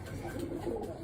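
A Baghdadi pigeon coos softly and steadily, a low purring murmur running continuously throughout, close and even.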